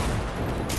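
Fortnite gunfire makes a dense, loud crackle of rapid shots in a brief sub-second burst.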